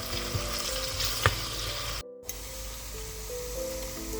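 Seafood soup ingredients, including fish, are stirred in a hot pot with oil, producing a steady close sizzle and frying hiss with a few clinks of the spoon and a brief dropout midway, with no talking.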